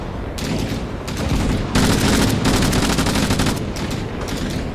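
Sustained bursts of automatic rifle fire in Arma Reforger crackle loudly and nearby, separated by brief gaps, with a heavier stretch of shots in the middle.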